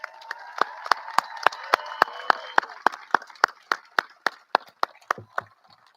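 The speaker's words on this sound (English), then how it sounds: "how about we give our graduates another round of applause" Applause for graduates at a high school graduation ceremony, heard as a steady run of about twenty sharp, evenly spaced claps, loud and close, over a faint crowd murmur that fades out at the end.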